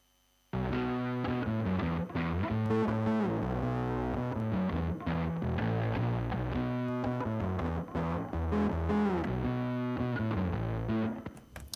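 A bass DI runs through a SansAmp distortion plugin in Pro Tools, with a loud, gritty, sustained bass line of rich, buzzy overdriven notes playing continuously before cutting off at the end.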